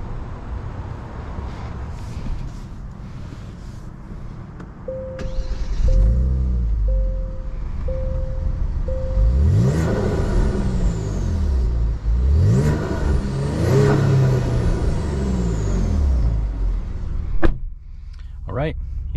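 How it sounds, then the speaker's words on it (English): Tuned 2023 Genesis G70 with 500 torque driving and accelerating, its engine rising in repeated revving sweeps through gear changes, loud and close from inside the cabin, with steady road rumble and a short whir near the start. "let's go ahead and take it on a POV test drive and see how this Genesis G70 will do."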